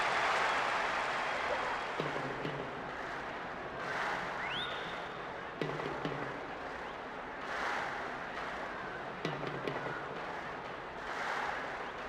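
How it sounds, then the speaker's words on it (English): Stadium crowd cheering in the PES 2009 football video game on PS2: a steady, loud roar of many voices that swells and dips throughout, with brief sharper bursts of noise. "Although low in numbers, the crowd seems highly motivated."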